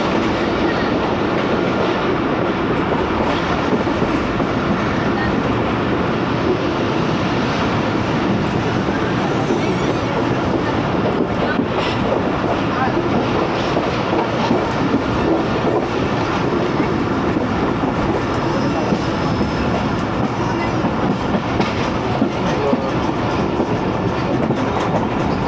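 Awam Express passenger train braking as it nears Gujar Khan railway station, heard from on board: a loud, steady rumble of wheels and carriages with faint clatter running without pause throughout.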